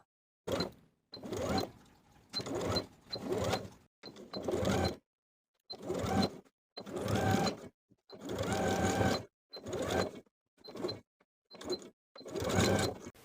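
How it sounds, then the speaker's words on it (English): A sewing machine stitches in the ditch on a Lutterloh dress, catching the folded lining edge underneath. It runs in about a dozen short, close bursts of steady whirring, with brief silent pauses between them. "I'm going to stitch in the ditch from the outside."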